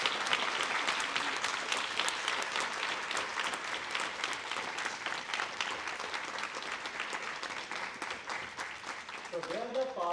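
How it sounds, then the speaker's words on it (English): Dense, sustained applause from an audience at the India Mushroom Summit 2023 valedictory ceremony, steady and fairly loud throughout, with a voice starting to speak over it near the end. "Please give them a huge round of applause."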